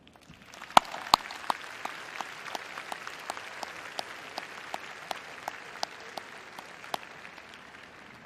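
An audience at a university spring undergraduate commencement applauds graduates' families and friends, a steady wash of clapping from a large crowd in a big hall with a few sharper nearby claps standing out.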